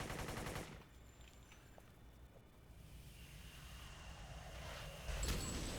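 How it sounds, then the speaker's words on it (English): Gunfire in the City of Heroes video game: a dense burst of automatic fire at the start, then a quieter stretch of rumbling ambience before another loud crack near the end, with no talk. "Who's shooting at me?"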